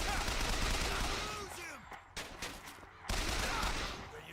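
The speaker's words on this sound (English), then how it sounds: "I love shooting racists." Rapid gunfire in the BioShock Infinite video game, a dense, loud stretch of shots broken by a brief pause before it resumes, with game effects swirling underneath.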